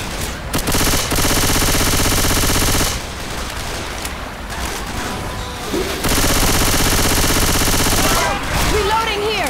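Sustained automatic gunfire from Left 4 Dead 2, loud and dense with bursts of rapid shots, a short lull mid-way, then heavy firing again while players talk over it.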